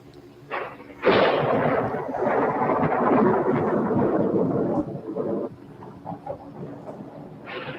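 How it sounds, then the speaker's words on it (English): Rolling thunder from an approaching storm in a television episode, a broad loud rumble swelling in after a second and lasting several seconds before easing into fainter, scattered rumbles. "the way the storm's coming up"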